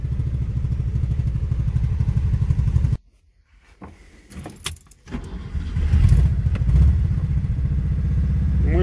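A 56-year-old ZAZ-965 car engine idles steadily and holds its revs, a dense low rumble that drops out briefly with small clatters before returning loud and constant.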